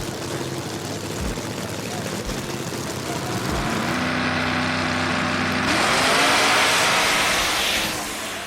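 A drag race between Poison Pinto and a Nitro Z Honda: engines roar and build steadily, loud and sustained, then the tone shifts as the cars run away, with crowd and commentary noise mixed in.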